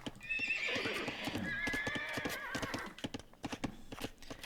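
Mounted knights in the Age of Empires video game: a horse's loud whinny over steady clip-clopping hooves, which carry on alone after the neigh fades, with faint talk underneath.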